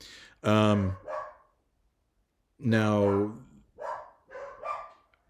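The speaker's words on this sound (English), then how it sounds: "And my dogs are super upset about something." Two pet dogs barking indoors: two loud, sharp bark bursts separated by a short pause, each followed by quieter yips. A voice speaks briefly near the end.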